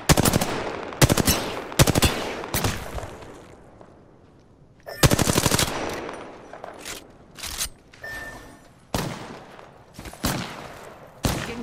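Automatic gunfire in the battle game Apex Legends, with several sharp bursts of rapid shots, some close and loud and others quieter, separated by short pauses.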